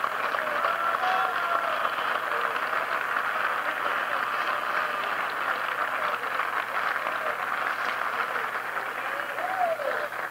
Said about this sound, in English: clap your hands and you can be seated